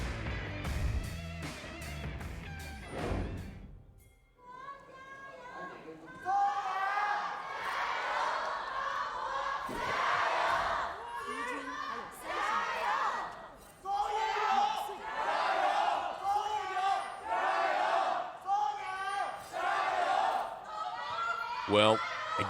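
A packed esports arena crowd roars at an LPL Spring 2021 playoff match, Top Esports versus Suning Game 4. A dense, loud wash of cheering swells in after a brief lull and carries on steadily, with a voice running through it.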